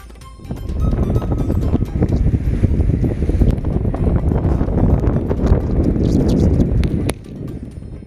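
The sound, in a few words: storm waves surging over rocks on a beach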